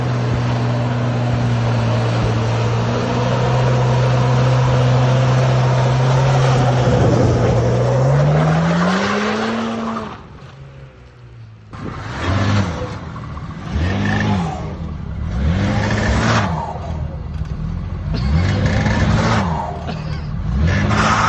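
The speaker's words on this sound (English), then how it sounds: "I was just gonna give you a little tease of the turbo noise." A BMW 335i with a big aftermarket intercooler revs hard, a steady loud drone climbing in pitch before cutting off, then a run of short repeated blips and revs with whooshing turbo noise, close and with no talk.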